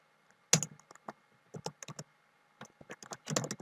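Computer keyboard typing chat messages during a Minecraft Skyblock game, with scattered bursts of clicky keystrokes separated by short pauses, close and fairly quiet.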